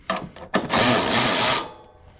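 Power tool loosening 8 millimeter bolts on an Exmark zero turn mower, heard as two short close bursts followed by a longer loud whirring run of about a second that trails off.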